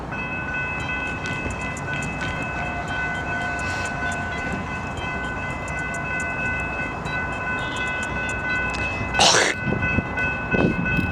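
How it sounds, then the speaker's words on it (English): Southbound Amtrak Coast Starlight, Train 11 from Seattle, pulls into Portland Union Station with a steady rolling rumble, and a loud horn blast sounds near the end. "a southbound Coast Starlight train, Train 11 from Seattle, would arrive at Portland."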